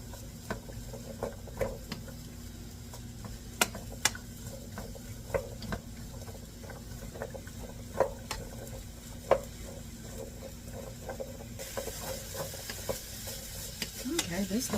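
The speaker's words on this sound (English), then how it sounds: "we're just going to keep stirring it around and tossing it around so it can cook." Food is stirred and tossed in a hot pan, a steady soft sizzle punctuated by frequent clicks and scrapes of the utensil against the pan, building louder near the end.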